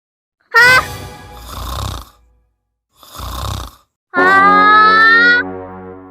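A person snores loudly nearby in a few drawn-out rasping breaths separated by pauses, the last snore long and droning, with no talk over it.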